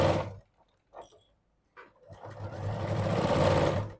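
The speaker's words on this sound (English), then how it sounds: "I'm gonna just stitch a 1/4 of an inch seam allowance from the top to bottom." A sewing machine stitching a quarter-inch seam on a quilted boxed pouch, with a few short bursts and pauses that give way to a steady, continuous run of stitching nearby.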